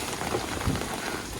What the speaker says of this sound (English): What's happening to our awning as it's raining?